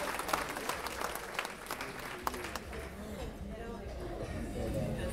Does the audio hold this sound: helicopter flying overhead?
no